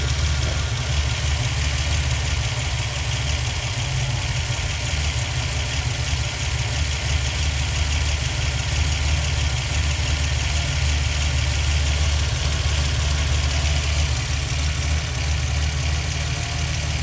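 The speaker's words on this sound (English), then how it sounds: "So I'll just go along each one and tune it." A rebuilt 1960s Ferrari V12 idling steadily during carburettor tuning, a dense, even low rumble with a faint mechanical tick, running continuously with no talk.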